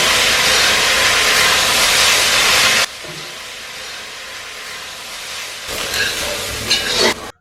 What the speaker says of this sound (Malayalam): അതിനുശേഷം അരിഞ്ഞു വെച്ചിരിക്കുന്ന സവാളയും കറിവേപ്പിലയും ചേർത്ത് നന്നായിട്ടൊന്ന് വഴറ്റണം